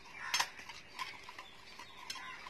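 Dalgona coffee mixture whisked by hand in a cup or bowl, faint quick clinks and scrapes of a spoon against the vessel in uneven bursts, quiet and close with no voices.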